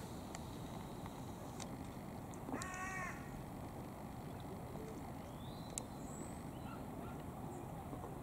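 A single crow's caw rings out faintly at a distance over a low outdoor rumble, with a couple of brief faint calls afterward.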